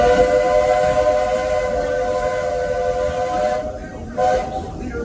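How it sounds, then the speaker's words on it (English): Walt Disney World Railroad train pulled by locomotive No. 4 Roy O Disney, a steady rumbling run with a sustained whistle-like tone and faint rail clatter, no talk. "stay seated until our train comes to a complete stop."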